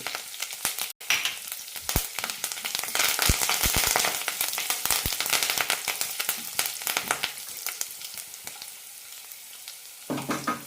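Curry leaves and four small cloves of chopped garlic drop into hot oil with chana dal and urad dal for an onion thoran. A loud, continuous close sizzle follows, with sharp crackles and pops and no talking.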